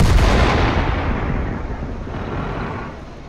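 Tank cannon firing in World of Tanks, a heavy, loud boom at the start followed by a long rumbling decay fading over a few seconds.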